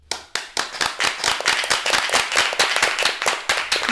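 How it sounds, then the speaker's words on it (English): A group of students clapping together, loud and close, with sharp claps in a steady rhythm that thickens into fuller applause. "the clapping shows the strength and interest of our students"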